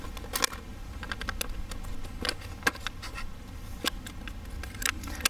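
Sharp, irregular snipping clicks from scissors cutting, close and fairly quiet, over a low steady background hum.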